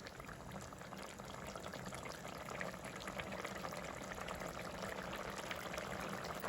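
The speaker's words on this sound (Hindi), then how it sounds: "अब हम डालेंगे इसके अंदर जो ज़ाफ़रान का पानी था वो डाल देंगे" Saffron water poured into a pot of Hyderabadi mutton curry on the stove, a continuous splashing trickle over faint bubbling, steady and close with nobody talking.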